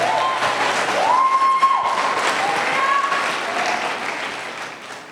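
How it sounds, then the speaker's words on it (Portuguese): Church congregation applauding in praise during a worship service, a dense, steady wash of clapping from many hands with a sustained tone and voices mixed in, fading slightly toward the end. "Aplauda o Senhor, querido, glorifica Jesus"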